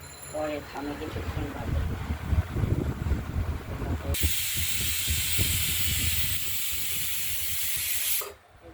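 A pressure cooker whistle lets out a long, loud steam hiss while red lentil dal cooks, starting after a stretch of talking and cutting off sharply at the end.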